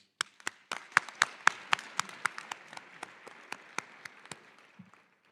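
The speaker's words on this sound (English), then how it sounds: "let's give them a round of applause" A small graduation audience claps for the instructors at a college ceremony, sharp distinct claps in an uneven rhythm, fairly close and thinning out before stopping, with a brief murmur at the end.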